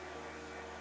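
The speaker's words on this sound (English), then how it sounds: "I can warm it with my portable hairdryer." Battery-powered portable hairdryer from a video game, running as a steady, loud whirring blow with a constant hum, alone and unbroken throughout.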